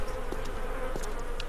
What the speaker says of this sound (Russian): Блин, столько мух, капец.